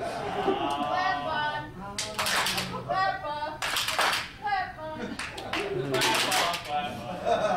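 A convention concert audience claps in uneven bursts between stretches of amplified talking and laughter, the applause swelling and fading several times over a busy, echoing room.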